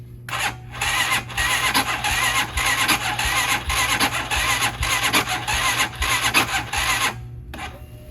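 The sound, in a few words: Hawk DLX motorcycle engine cold starting at 10°F with EFI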